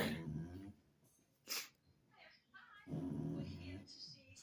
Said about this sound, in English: Damn, that dog be snoring. That's that brachiocephalic dog.